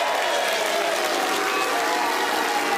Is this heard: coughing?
no